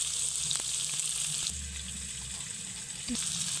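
Potato pieces seasoned with turmeric and salt fry in hot oil, making a steady close sizzle with faint clinks and stirring touches, no voices over it.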